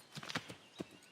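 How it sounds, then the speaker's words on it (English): A horse in the Assassin's Creed III video game gives a short, unhappy neigh along with a few hoof clops, quiet and close, with no talk. "Oh, horse isn't happy because I was going somewhere he didn't want to go."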